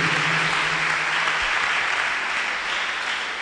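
A church congregation claps together at a testimony service, loud, dense and continuous applause filling the room from start to finish, with a faint low voice briefly under it at the beginning.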